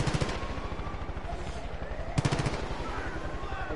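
Rapid automatic gunfire in Far Cry 5, loud and continuous with dense rattling bursts, a brief pause then another sustained burst.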